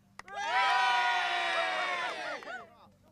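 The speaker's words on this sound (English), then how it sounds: "Another cheer, please. Another cheer." Crowd at a TCR UK touring car race at Donington Park breaking into a loud, sustained cheer with whoops and shouts, swelling quickly and holding for about two seconds before tapering off.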